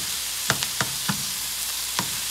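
Ground meat frying over high heat in a hot pan, a steady hiss and sizzle with a few light knocks of a utensil stirring against the pan.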